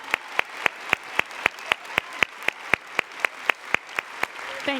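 Thousands of fans at the Stampin' Up! 2013 convention closing session clap in unison, sharp rhythmic claps about four per second, loud and steady, with a faint crowd murmur beneath.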